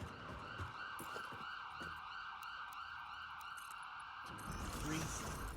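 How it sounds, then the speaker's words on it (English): Wailing sirens inside the factory-building video game Satisfactory, a sustained rising and falling tone that runs throughout at moderate level, mixed with other game noises and a voice talking over it. "Please don't tell me that's sirens."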